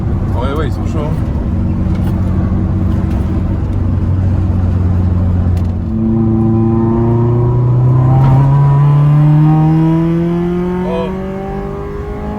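A Peugeot 206 S16 fitted with a modified exhaust revs close up. Its loud engine note climbs and falls through several rising sweeps, and people exclaim and talk around it.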